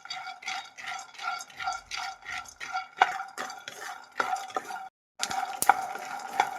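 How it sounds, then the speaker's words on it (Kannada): Peanuts dry-roasting in a pan over medium flame, stirred with a spoon that scrapes and clinks in quick rhythmic strokes, close up, with one brief pause before stirring resumes. "ಇದು ಕಡಲೆ ಬೀಜ ಸೀಸ್ಬಾರ್ದು, ಮೀಡಿಯಂ ಫ್ಲೇಮಲ್ಲಿ ಇಟ್ಟು ಹುರಿಬೇಕಾಗುತ್ತೆ."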